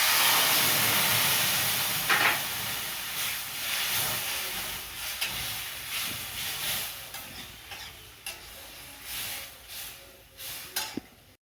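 Chana dal boils in a pot with a close, steady hissing and bubbling that slowly fades, broken by a few sharper bursts and no talk.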